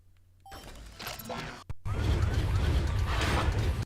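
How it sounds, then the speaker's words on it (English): Steady mechanical grinding in the background of the Pac-Man World 3 video game, starting after a few clanks and a brief whoosh, then running loud and continuous to the end. "Hopefully this will get rid of that grinding noise in the background."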